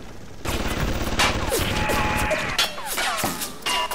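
Rapid bursts of gunfire in the video game Bioshock, loud and close, with repeated sharp shots and ringing impacts layered over each other across several seconds.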